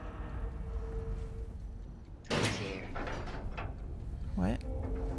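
Exit gate opening in Dead by Daylight: a grinding mechanical slide rising over a low game hum, followed by fainter clanks and a rising whine, with quiet voices underneath.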